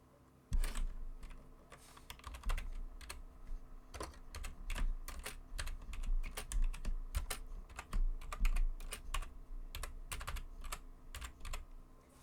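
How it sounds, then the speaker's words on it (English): Steady typing on a computer keyboard while adding a comment to a table, sharp irregular key clicks in quick bursts, close and fairly loud for about twelve seconds, with a faint low hum underneath and no voices. "and then I'll type a new comment."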